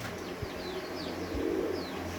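Breeder pigeons coo low and soft in a few repeated calls, close by, with faint chirps of other birds and light background noise.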